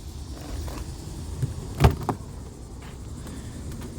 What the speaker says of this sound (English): This car does not have keyless entry, so I do have to click the unlock button.